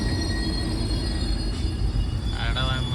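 A Karwar Express passenger train runs with a steady, loud rumble of wheels on rails and a faint squeal late on, and voices murmur in the background.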